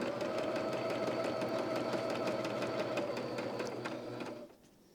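A Jazz 2 sewing machine stitches a quilt block at a 1.8 stitch length, a steady, close mechanical whirr with rapid even needle ticks that runs continuously and then stops abruptly just before the end.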